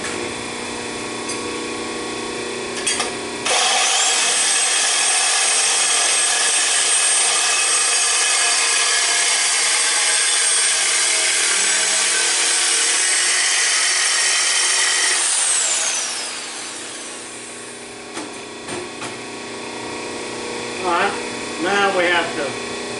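A power saw cuts an exhaust header pipe to length for a 1962 Comet custom header, giving a loud sustained whine for about twelve seconds that then winds down, with brief clanks before and someone talking afterward.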